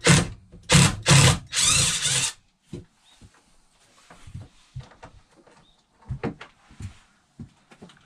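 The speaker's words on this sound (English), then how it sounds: "And we're going to use that as a power screwdriver." A power drill drives Phillips screws as a screwdriver while a dinette is removed from a 2019 Winnebago Micro Minnie RV. Three loud, close whirring bursts come first, then scattered quieter clicks, knocks and short rattles of handling.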